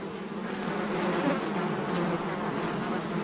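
Steady, fairly faint buzzing of bees, a continuous insect drone with no voices.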